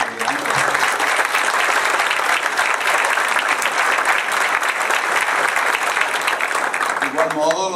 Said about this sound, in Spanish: reciban también un aplauso de la audiencia